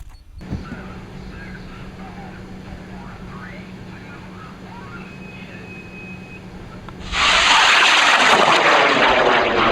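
A high-power rocket lifts off on an experimental M1500 motor, a six-grain 3-inch reload, under a 5.5-inch airframe. After a low, steady outdoor background, a sudden loud, sustained roar starts near the end and fades slowly.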